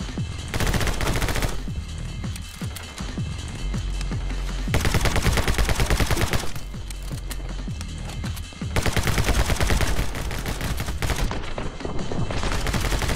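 Rapid bursts of automatic gunfire from the video game My Friend Pedro rattle on loud and dense throughout, with short lulls between volleys and layered shots over a pounding game soundtrack.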